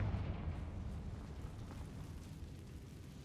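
A Confringo fire-blast spell cast in the Hogwarts Legacy video game bursts at the start with a loud low boom, then rumbles and crackles steadily as it fades over a few seconds, with no voices.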